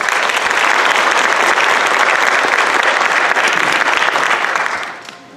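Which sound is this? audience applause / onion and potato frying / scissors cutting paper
audience applause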